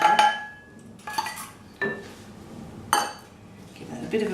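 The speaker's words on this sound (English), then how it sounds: "Give that a bit of a mix." A spoon knocks and scrapes against a mixing bowl in a few separate bursts while pineapple courgette loaf batter with crushed canned pineapple is mixed, close and clear with quiet pauses between strokes, no talking.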